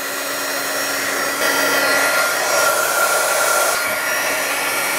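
A heat gun blows a steady, loud airy whoosh while heat shrink tubing is shrunk over solder joints on a 125-pixel LED string, holding constant with slight swells and no talk.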